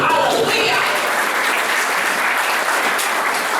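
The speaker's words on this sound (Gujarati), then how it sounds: "તાળી પાડી, હાલેલુયા." Applause from a church congregation during a Sunday sermon, dense and steady clapping filling the room throughout.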